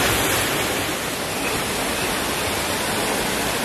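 A roaring waterfall heard from right beneath it, spray hanging like mist at the entrance to a cave behind the falls; a steady, loud, broadband rush with no voices.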